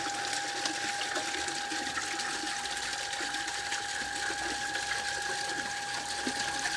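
A solar-powered three-inch water pump runs steadily as it is lifted out, giving a close, continuous mechanical whine with a sustained tone and water churning, with no talk.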